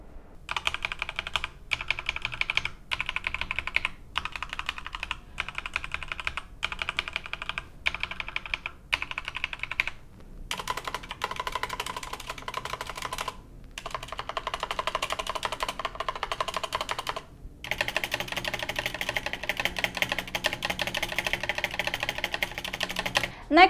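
Mechanical keyboard with rattling stabilizers typed on steadily in close-up, crisp clacks arriving in rapid bursts with short pauses, and the larger keys adding a loose, rattly clatter.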